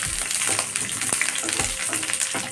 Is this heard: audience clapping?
no